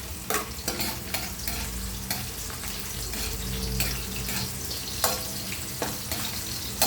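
Ginger and onion sauté in a hot pan for tinolang tahong, a continuous sizzle broken by repeated scraping strokes of a spatula against the metal.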